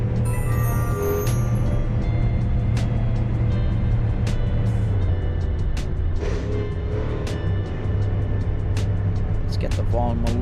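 Volvo S60R engine in the Assetto Corsa racing game, a steady low drone with shifting tone held throughout under a voice talking over it.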